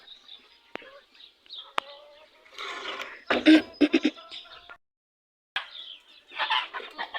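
Hens and chicks clucking and calling in a farmyard, bursts of clucks rising to a louder squawky flurry, with a few faint clicks and pauses in between.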